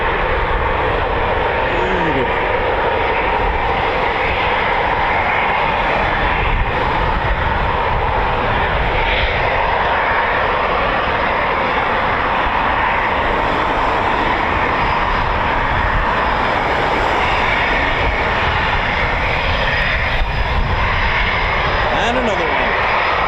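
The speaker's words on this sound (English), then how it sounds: "Got ourselves the family version Typhoon." A Eurofighter Typhoon FGR4 jet at RAF Coningsby roars steadily and loudly throughout, a broad sustained engine rush with a person speaking over it.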